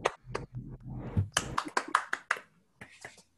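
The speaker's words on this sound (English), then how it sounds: "Let's unmute ourselves and give Michael a round of applause." Scattered claps and taps come from a few unmuted participants on a video call after an online physics talk, sparse and uneven bursts with small gaps, one participant more distinct than the others.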